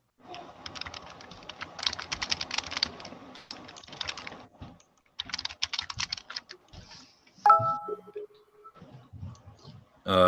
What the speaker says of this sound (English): I was just typing them in as you said them.